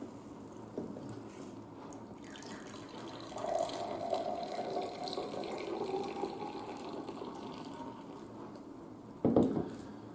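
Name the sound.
filling glasses with water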